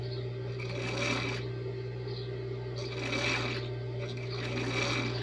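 A sewing machine stitches bias binding onto the strap of a ruffled strappy dress, running in three short, quiet bursts separated by brief pauses.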